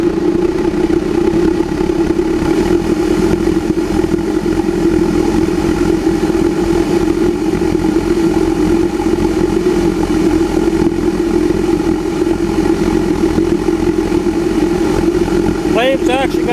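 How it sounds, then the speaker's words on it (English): A burner flame pulsing with its air supply turned up high and fuel set low, heating 64 oz of water in a galvanized steel vessel; a steady, loud roar with a low throbbing hum runs unbroken throughout. "Flame's actually got a pulse in it tonight."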